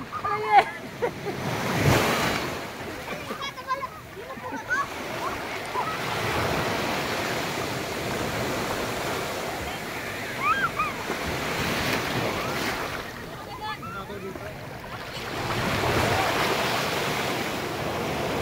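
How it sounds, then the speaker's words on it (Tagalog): Ocean waves roll in and break on the shore at Lemery, Batangas, in repeated surges, with wind buffeting the microphone in between. "Ala, nandiyan na lang alon, oh."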